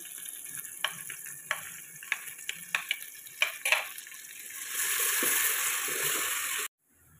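Onion frying with garlic ginger paste and green chillies in a pan sizzles softly, broken by light taps and scrapes of a stirring spoon, then swells into a louder steady hiss before cutting off abruptly.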